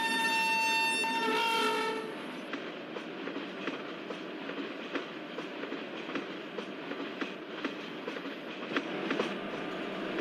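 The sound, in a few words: train crossing Kadapa station, from a train simulator game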